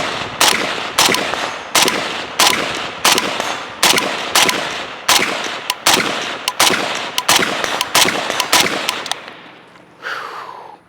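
Suppressed 5.56 FB Radom Mini Beryl rifle firing about seventeen sharp, evenly spaced shots in a steady semi-automatic rhythm, loud and close outdoors, ending in a brief quieter ringing tail.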